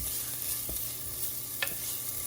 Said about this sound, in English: now I'm just going to stir the shallots and the garlic